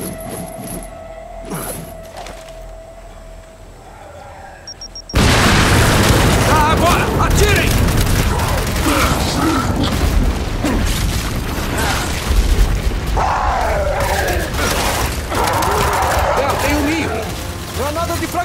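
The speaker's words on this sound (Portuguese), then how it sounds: "granada de fragmentação!" A frag grenade detonates in the Gears of War 5 campaign with a sudden loud boom, followed by a sustained roar of battle noise and debris under voices talking.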